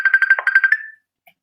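An incoming phone call rings with a quick run of bright, pulsing electronic tones that stop abruptly after under a second, followed by a faint blip.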